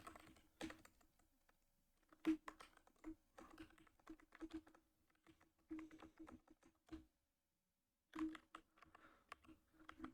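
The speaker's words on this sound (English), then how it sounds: "my keyboard has some kind of problem here" Computer keyboard typing in bursts, close and faint, with rapid clusters of key clicks broken by short silent pauses, on a keyboard that seems to have some fault.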